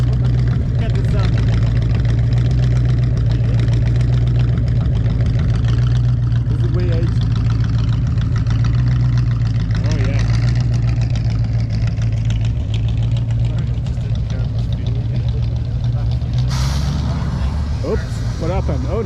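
A vintage car engine idles steadily at a car show, a continuous low rumble held close and loud throughout, with people talking over it.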